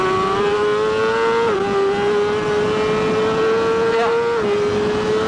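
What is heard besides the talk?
Polaris Ranger Crew XP 1000 side-by-side driving laps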